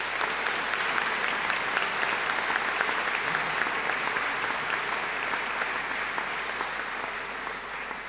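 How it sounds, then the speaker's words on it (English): A large audience at a graduation ceremony applauds steadily, a dense wash of clapping that holds for several seconds before easing slightly toward the end. "This is a moment to give them a round of applause."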